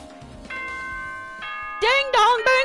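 A chime from the video game Danganronpa 2 plays a sustained bell-like tone that steps up in pitch, followed by a cartoonish voice, loud and up front.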